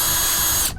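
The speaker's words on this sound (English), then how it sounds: "you want to grab your small drill bit and you want to drill all the holes you marked out to act as a pilot hole or a guidance hole" A small pilot-sized drill bit boring holes into a car side skirt for Flow Designs jacknuts, a steady continuous whine held close and loud for the whole burst before it cuts off abruptly at the end.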